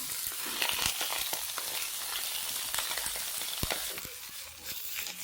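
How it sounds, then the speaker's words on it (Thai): Cabbage stir-frying in oil in a wok makes a steady, loud, crackling sizzle throughout, with occasional sharper pops and stirring clatter and no talking. "เราจะใช้วิธีการผัดกระหล่ำปีกับน้ำมัน"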